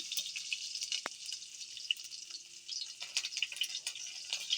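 Chopped onion fries in a pan for a spinach and prawn dish, giving a soft, even sizzle with scattered light crackles and pops, close and quiet with no one speaking.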